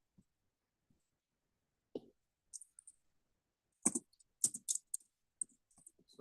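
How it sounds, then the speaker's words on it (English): Quiet, scattered clicking of a computer keyboard as someone types during a college algebra study session, with sparse isolated taps early on, then a denser cluster of keystrokes, fairly faint with no talk. "Get my keyboard to work"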